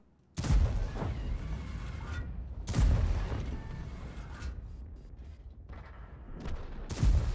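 A tank cannon fires in a video game: three heavy booming shots several seconds apart, each with a loud thump and a rumbling tail, between quieter engine and battle noise.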